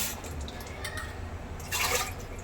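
Rice rinsed in water in a home kitchen: soft, low-level swishing and trickling, with a brief louder splash near the end over a faint background hum.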